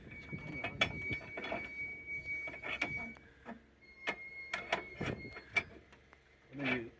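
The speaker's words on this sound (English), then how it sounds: "And then you crank it like that." Crank handle turning the lift mechanism of a 1990 Coleman Columbia pop-up camper, giving a series of close, uneven mechanical clicks and ratcheting ticks with brief pauses. Faint voices are heard now and then.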